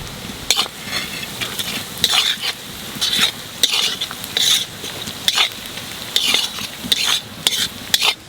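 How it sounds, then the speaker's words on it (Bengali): Onions and green chillies frying in a pan, a loud, close sizzle broken by regular scraping strokes of a spatula roughly once a second, steady rhythm, no talking. "পেঁয়াজ আর কাঁচা লঙ্কা একটু বাজিয়ে নিছি"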